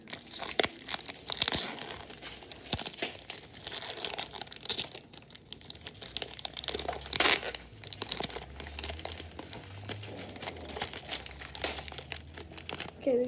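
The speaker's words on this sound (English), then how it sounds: "we got the bonus pack open" Plastic wrapper of a hockey card bonus pack crinkling and tearing open, with close, busy rustling and crunching bursts running throughout and no talk.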